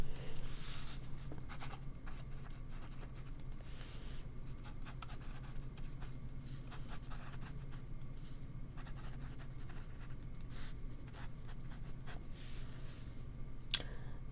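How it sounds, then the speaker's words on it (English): Notes are written by hand close up, with a pen scratching steadily across paper in short quick strokes and small taps against a quiet low hum, with no talking. "So I'm just going to write down some notes as I take your measurements"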